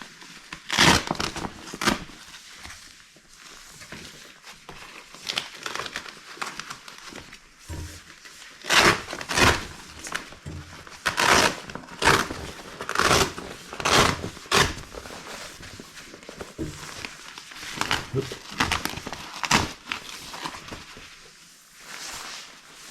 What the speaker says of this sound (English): This bag has all these hook and loop type of fasteners on it. Just open those up.